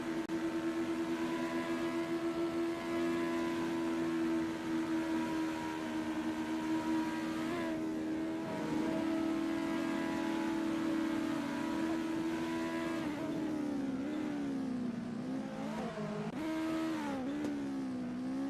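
Race car engine in a sim racing game during a qualifying outlap, droning steadily at a held pitch, then shifting and revving up and down toward the end, loud and continuous with no talk.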